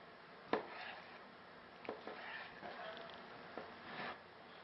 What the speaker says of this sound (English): we're going to cut our meat lengthwise into strips